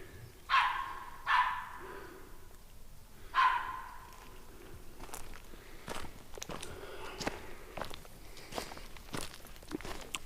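A dog barks outside, three loud barks spaced over the first few seconds, followed by softer footsteps and scuffing nearby.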